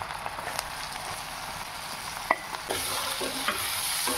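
Ginger-garlic paste and chopped onions hit hot oil with whole spices and crackle in a steady, close sizzle, with a few clinks and stirring scrapes and a louder burst of frying near the end.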